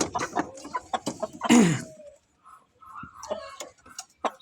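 Two large hens cluck in short, uneven bursts close by, with one louder squawk partway through and quieter clucks trailing off.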